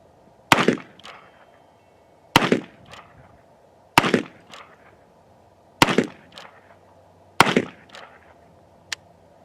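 Five loud, sharp revolver shots from an Uberti Richards Mason, fired at a target about 30 yards away. The reports come at roughly two-second intervals, each ringing off with a brief echo, followed by a faint click at the end.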